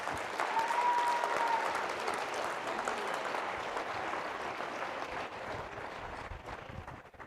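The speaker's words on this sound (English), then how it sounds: "Big round of applause." Steady audience applause at an alumni banquet, a dense wash of many hands clapping that holds fairly even before thinning slightly toward the end.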